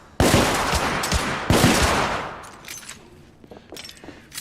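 Bursts of rapid gunfire from a third-person shooter set in an alternate Victorian London, two loud volleys with rattling shots, then fading to scattered quieter reports and echoes.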